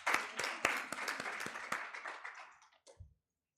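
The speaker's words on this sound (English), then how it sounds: "Please give her a round of applause." A small audience at the South African Internet Governance Forum applauds Advocate Nsaluba, giving sparse, distinct claps that fade out within about three seconds, then a soft thump and silence.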